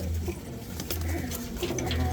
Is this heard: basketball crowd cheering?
no